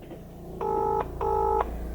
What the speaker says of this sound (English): So it's ringing David, I'll hang up.